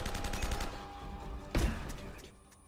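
Gunfire from the video game Uncharted: Drake's Fortune, a few shots over a busy game soundtrack, with one loud burst near the middle before the sound drops away.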